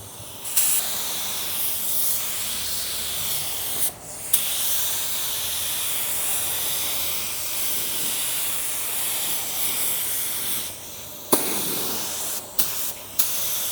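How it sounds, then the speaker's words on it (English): A budget spray gun laying sealer on a car part for a tri-stage pearl Altima, long loud hissing bursts of atomized spray broken by brief pauses and short trigger pulls near the end, close up and without talk. "Wait till you see how this gun sprays."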